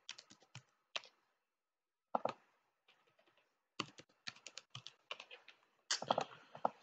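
Manual typing of a password on a computer keyboard, quick irregular bursts of clicky keystrokes separated by short pauses, close and fairly quiet with no speech.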